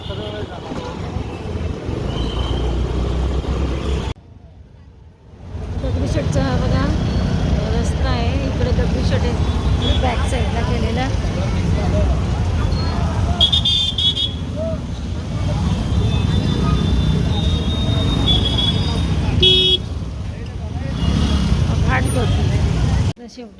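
Dense road traffic in a narrow town lane rumbles steadily, with engines and vehicles passing close and a few short horn toots, while people talk over the noise.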